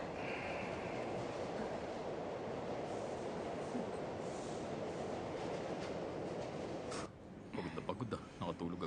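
A steady, rumbling roar of a moving train fills the clip, with rhythmic rattling of the cars, then a brief shift near the end.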